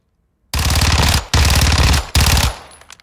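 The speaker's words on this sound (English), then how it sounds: "So the Chris Vector, firing that 45 ACP." A Kriss Vector fires .45 ACP on a Call of Duty Modern Warfare II firing range in three loud, close, rapid full-auto bursts, each lasting under a second with brief gaps between them.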